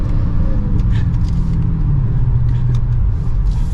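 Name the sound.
Dodge Charger SRT Hellcat Widebody accelerating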